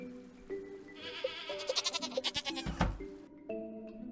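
A goat bleats in the video game Stardew Valley, a loud wavering, stuttering cry lasting about two seconds over soft game ambience, no talk.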